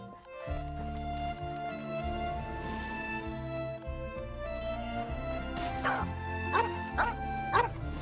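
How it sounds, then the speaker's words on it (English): A dog barking in the video game Genshin Impact, several sharp barks and yips near the end over steady game music with sustained tones. "A doggy! Is that a doggy or wolf?"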